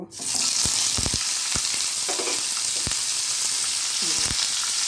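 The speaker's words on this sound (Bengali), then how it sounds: "পনিরগুলোকে খুব হালকা একটু আমি ভেজে নেব" Paneer fries lightly in a little refined oil in a nonstick pan, a loud, dense, steady sizzle broken by several low thumps and knocks as the pieces are moved.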